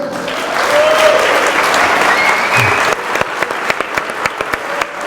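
A crowd at a startup pitch event gives the mentors a round of applause. Full, loud clapping for about three seconds thins into scattered, fading individual claps.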